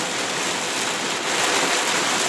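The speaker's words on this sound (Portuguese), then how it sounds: "E veio a chuvinha de final de tarde." Light late-afternoon rain falls in Feira de Santana, Bahia, while the sun is out, giving an even, dense hiss that holds steady throughout with no voices.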